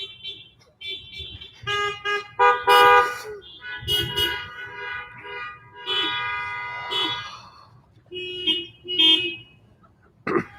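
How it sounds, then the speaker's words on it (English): Many car horns honk at once at a drive-in Christmas Eve church service, overlapping blasts and toots of different pitches rising and falling for several seconds, loud and close. "I love hearing all of your car horns."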